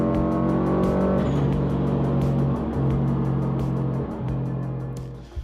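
Subaru WRX rally car engine roaring hard and steadily for several seconds, gunned through deep puddles of water, with sustained revving and splashing road noise up close.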